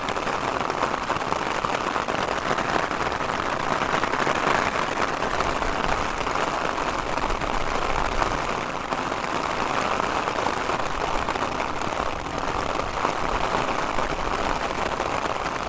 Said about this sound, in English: I wanna listen beautiful sound of rain also